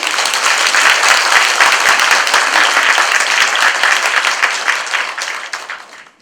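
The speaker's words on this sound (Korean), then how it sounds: "격려 박수 한번 드립니다" Dense, steady applause from an audience at a Buddhist dharma talk on Seon meditation, loud and sustained before tapering off at the end.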